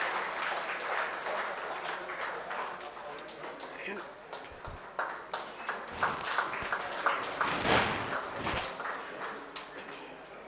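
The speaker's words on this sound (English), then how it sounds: "A big round of applause, ladies and gentlemen." An audience at a 3D printing and additive manufacturing finishing school program gives a sustained round of applause that carries on steadily from the start and swells toward the end, with a voice speaking over it.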